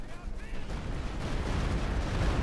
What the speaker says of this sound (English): We've got the Stukas and Fish firing also